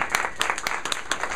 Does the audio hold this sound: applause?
yes